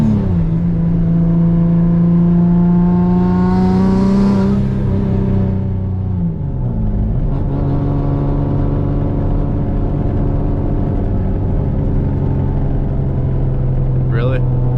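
A turbocharged, built Nissan 350Z drives along loudly from inside the cabin, its engine drone holding a steady pitch, then dipping and climbing again as the car shifts and accelerates, with a brief chirp near the end.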